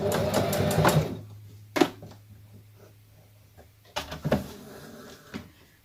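A sewing machine stitching in short loud bursts, with a steady low motor hum between them and clattering knocks from the machine and its noisy foot pedal.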